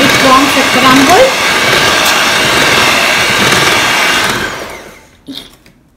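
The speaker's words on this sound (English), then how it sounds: "We are just going to mix until it forms a crumble." Loud, steady whirring drone of an electric mixer beating flour mixture into eggless cookie dough, close and continuous, then winding down and stopping near the end with a brief clatter.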